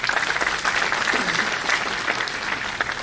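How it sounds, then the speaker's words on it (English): A hall audience at a management induction programme for BBA, MBA and B.Com students gives a loud, dense round of applause that holds steady throughout, with many hands clapping together close by. "I would request if we can have again a huge round of applause for the organizing team of this particular show."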